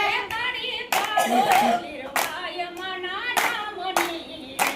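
Sharp, evenly spaced hand claps from a group of devotees mark the beat of a Gujarati devotional song honouring Lirbai of Modhvada, sounding loud and close beneath the continuous sung melody.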